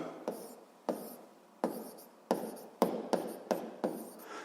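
Notes being written by hand during a physics lesson, heard as about ten short, close scratchy pen or chalk strokes in quick bursts, each sharp at the start and fading fast, with nothing else heard.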